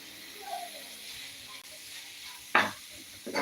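Tomatoes sizzle softly in a hot pan for an egg roast, a steady low frying hiss broken by two bursts of louder scraping as the mixture is stirred.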